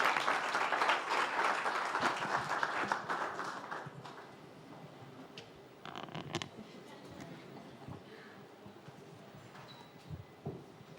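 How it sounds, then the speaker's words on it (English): Loud applause fills a hall at an African health-tech investor summit as a speaker walks to the podium. The clapping fades after about four seconds into scattered claps, footsteps and small shuffling noises. "A round of applause as he comes to the podium."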